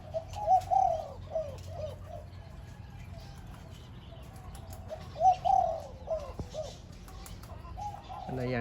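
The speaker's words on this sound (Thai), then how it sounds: "นี่ก็คูกันหมดแล้วนะครับ" Doves cooing in a Thai bird-keeping setting, with repeated soft low coos in two bursts, near the start and again around five seconds, over a steady background hum and faint chirps.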